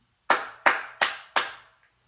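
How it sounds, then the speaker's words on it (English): Four separate, sharp hand claps in a slow, even rhythm, close and fairly loud, each ringing briefly before the next, with quiet between. "Can we get a round of applause?"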